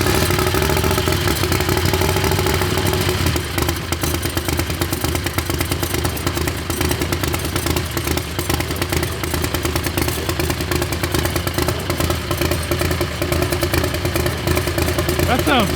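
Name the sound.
Predator 670 engine with bigger turbo running on dragster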